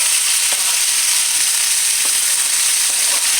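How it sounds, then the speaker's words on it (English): Tomatoes and onion frying in a pan for a chicken tortilla casserole, giving a steady, loud, even sizzle with a few faint ticks of stirring and no voices. "I'm going to put the tomatoes and the onion in here."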